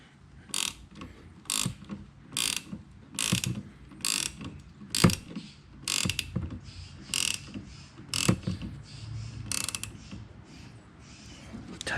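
A ratchet tightening a bolt on the windshield wiper of a BMW E39 540, with bursts of clicking pawl strokes separated by short pauses, close up, along with faint metallic handling noises.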